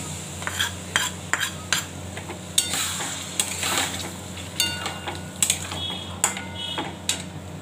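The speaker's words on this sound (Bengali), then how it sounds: "ময়দাটা মেখে নিচ্ছি, একটু তেল দিয়ে দিচ্ছি।" Flour dough being kneaded with oil by hand in a bowl, heard as repeated soft slaps, squelches and knocks against the bowl in an uneven rhythm, close by and fairly loud, with no talking.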